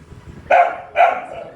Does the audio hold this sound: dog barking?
yes